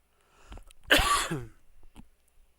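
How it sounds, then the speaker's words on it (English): A burst of close, loud coughing, a few harsh hacks clustered together, followed by a couple of fainter single coughs trailing off. "Excuse my coughing."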